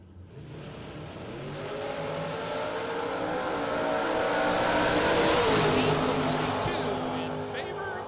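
Cars launching down a drag strip at a drag racing warmup event, a loud sustained engine roar that builds steadily and peaks mid-run before easing slightly, with an announcer talking over it.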